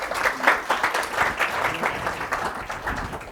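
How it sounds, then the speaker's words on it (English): An audience at a dairy symposium session on animal health and welfare applauds a speaker, with continuous crowd clapping and distinct individual claps rising and falling in the room. "Let's give our speaker one more round of applause."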